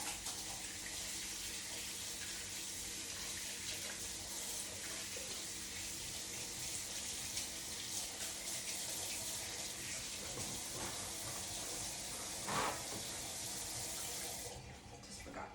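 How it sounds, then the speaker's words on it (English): Water runs steadily from a kitchen tap while hands are washed, a constant close splashing stream with small shifts in the flow, cutting off near the end. "I gotta wash my hands."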